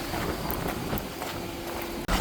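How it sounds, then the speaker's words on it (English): Strong wind buffets the microphone at a desert truck campsite in Arizona, a constant loud roaring rush with gusty swells and a brief dropout near the end. "Sorry if it's super windy."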